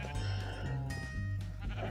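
Sheep bleating in Minecraft, modded FTB Direwolf20 pack version 1.6.4, near a small pen of four sheep: repeated wavering bleats over a steady low game hum, with no talk.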